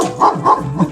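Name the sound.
dog barking at a small shop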